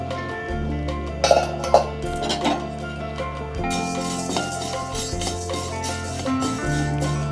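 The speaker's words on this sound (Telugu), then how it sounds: "మినపప్పు వేయించుకోవాలి." Urad dal is stir-fried in a pan for a Telugu gun powder spice mix, with a few close metallic clinks and scraping of a utensil against the pan over a steady background hum and faint sizzling.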